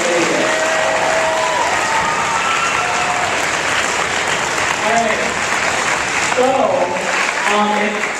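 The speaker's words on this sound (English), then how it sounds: "Can we get one more big round of applause for all the candidates?" A school audience gives sustained applause for the school captain election candidates. The dense clapping fills the room and runs steadily throughout, with a few voices and cheers rising over it near the end.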